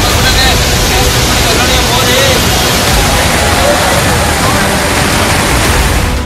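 Floodwater from the overflowing Vrishabhavathi river surging over a road after an hour of heavy rain, a loud, steady broadband rush of churning water filling the whole stretch without a break.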